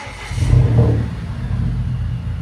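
Exhaust from a 2019 Volvo S60 T6 with a 2.0L turbo engine, Vibrant parts and muffler delete, a deep rumble swelling into a brief rev near the start, then settling to a steady close idle drone with no talk.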